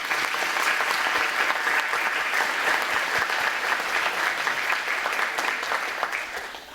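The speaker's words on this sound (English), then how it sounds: "let's give them a round of applause." Steady applause from a sizable crowd at a school recognition ceremony, dense clapping that holds level for several seconds before tapering slightly at the end.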